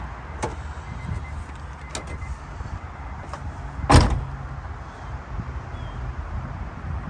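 An Acura Integra's door opens in a garage with a single firm mechanical clunk at the latch, set against a low steady rumble and light ambient noise, with a few faint clicks before it.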